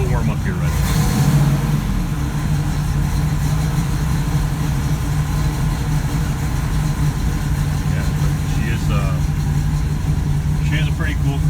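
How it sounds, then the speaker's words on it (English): A 1967 Pontiac Firebird convertible idles while still cold, its engine giving a steady, somewhat uneven rumble that runs loud and close throughout, with someone talking over it. "She's a little cold still, so she's not idling as good as she should."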